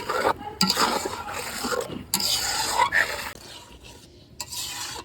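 Spice masala of turmeric, chili powder, coriander powder and salt being stirred and scraped in a pan, a close rasping, scraping rhythm in bursts with short pauses, no talking.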